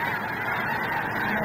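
A large flock of snow geese at Bosque del Apache honks nonstop, a loud, dense chorus of overlapping calls filling the air with no pauses.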